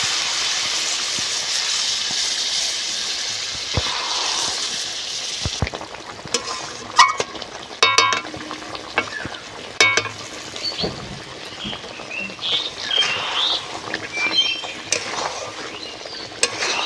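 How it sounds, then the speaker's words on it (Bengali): Steady loud sizzling of jackfruit chicken masala in a pan, with water splashed in and a spoon stirring and scraping through the bubbling curry over the second half. "অল্প করে জল দেবো।"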